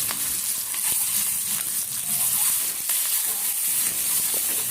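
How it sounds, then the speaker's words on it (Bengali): Boiled eggs coated in salt, turmeric and red chili powder fry in hot oil until lightly browned, giving a close, continuous crackling sizzle with no talk. "মিনিট দশেক পর ডিম হালকা লাল করে ভেজে নিলাম"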